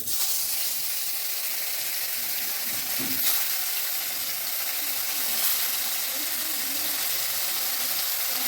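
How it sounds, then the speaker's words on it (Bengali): Pieces of silver carp fish fry in hot oil in a wok, producing a continuous close sizzle with faint bubbling and an occasional light scrape, without any talking. "কড়াইতে আমি তেল দিয়েছি তেলও গরম হয়েছে এখন আমি একে একে মাছগুলো ভেজে নিচ্ছি"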